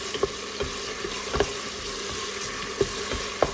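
Onion, tomato, garlic and green chili frying in a pan, with a steady sizzle and crackle running throughout, close up, and a few sharp clinks and taps of a spoon stirring against the pan.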